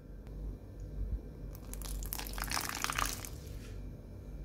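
Hot water is poured into a white chocolate mixture, giving a soft splashing, trickling pour that swells over a couple of seconds above steady background hum, then fades.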